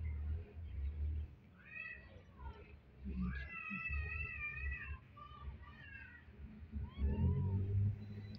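A stray cat meows and caterwauls nearby in several drawn-out, wavering cries against low background rumble, while a person talks quietly.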